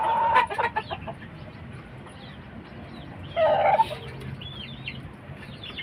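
Cuban tiger chickens cluck and call in short bursts nearby, with a louder squawk midway, against quiet outdoor background noise.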